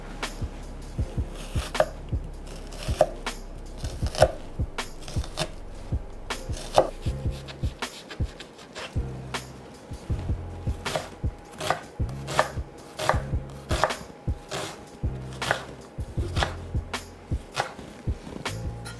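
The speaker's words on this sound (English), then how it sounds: "You guys know how to dice an onion." A knife dicing an onion on a cutting board, with rapid, steady chopping strikes repeating close up and alone throughout, pausing briefly now and then.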